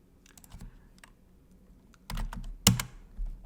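Someone types on a computer keyboard in scattered bursts of clicks, growing louder near the end with one sharp key strike, and nobody speaks.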